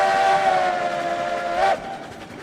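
A locomotive whistle in the RailRoads Online train game sounds loud and steady for about 1.7 seconds over the rumble of the long-haul engine, then cuts off, leaving the train running alone.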